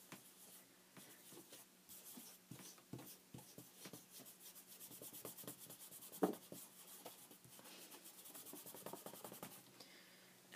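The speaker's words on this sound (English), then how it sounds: "You rub it on with your finger, and then you wipe it off." A fingertip rubs glaze onto paper for a junk journal pocket, making soft, close, irregular scratchy rubbing strokes with a few light taps and handling noises, fairly quiet.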